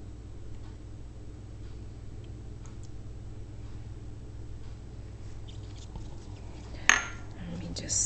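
A mixture with added fragrance is stirred with a utensil, making faint, sparse ticks and light scrapes over a low background hum, then one sharper clatter near the end.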